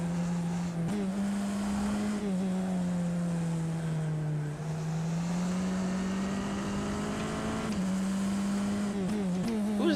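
Older F1-style open-wheel race car without a hybrid system, driven in rFactor 2, holds a loud, steady high-pitched engine drone with small pitch dips and rises as it shifts and revs throughout.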